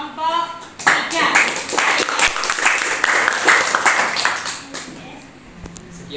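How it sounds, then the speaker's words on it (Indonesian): Classroom applause for a student group presenting a mathematics project, a burst of many hands clapping for several seconds that thins out near the end, with voices mixed in. "tepuk tangan untuk kelompok 3"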